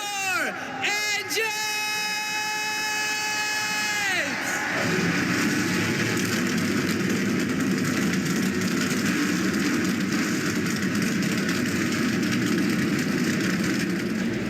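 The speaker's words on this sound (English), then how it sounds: "And the engines have been fired." Race car engines fire up in a NASCAR video game at Talladega: a rising starter whine gives way to a loud, steady, rumbling roar of many engines that carries to the end.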